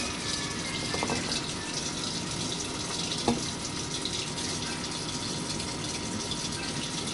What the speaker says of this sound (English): Room temperature water.